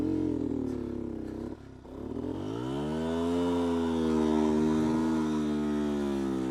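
A 2019 Beta 125 RR-S two-stroke dirt bike on singletrack revs up in first gear, its engine rising in pitch and holding a loud, close, buzzing drone after a brief dip.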